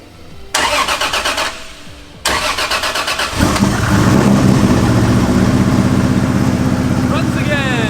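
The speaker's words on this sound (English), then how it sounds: "I completely forgot how different this car sounds than most JZs" A car with a JZ inline-six engine cranks with a rhythmic starter whir, stops, cranks again and fires up, then settles into a loud, steady, throaty idle close to the microphone.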